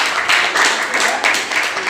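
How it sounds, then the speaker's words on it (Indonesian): Students clapping together in a classroom during a lesson, a short, close burst of steady applause. "Tepuk tangan untuk kita semuanya."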